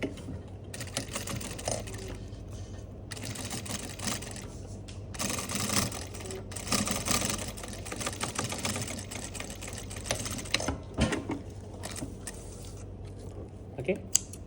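A sewing machine sews a stay stitch near a trouser zipper fly in uneven rapid bursts with pauses between runs, fairly quiet and close.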